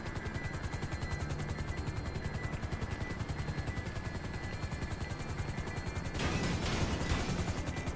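A helicopter in GTA 5 drones with a fast, steady rotor chop close by, then a rough forced landing adds a thumping, scraping crash near the end.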